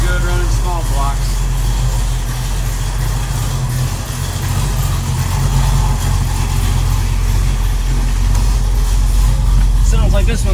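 A 1969 Chevrolet Camaro with a 383 stroker big block engine and automatic transmission, running steadily with a loud, deep rumble close by, while someone talks over it.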